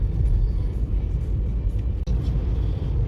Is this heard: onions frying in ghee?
no